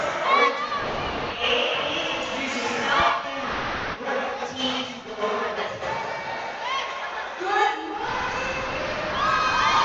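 A pep squad cheers at a sports opening ceremony, with a loud crowd of young voices shouting and whooping continuously, rising in bursts over steady background noise.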